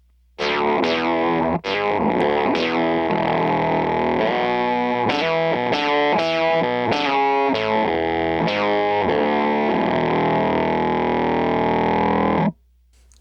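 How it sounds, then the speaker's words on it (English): Bass guitar through an Electro Harmonix synth pedal set for a bright, buzzy lead sound, playing a continuous melodic line of gliding, distorted synth notes for about twelve seconds, loud and close, with no speech. "And here's a lead sound."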